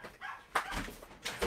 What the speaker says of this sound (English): I am sorry, I got a yapping dog there.